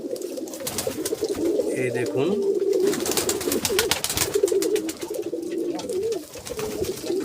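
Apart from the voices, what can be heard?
pigeons cooing while being fed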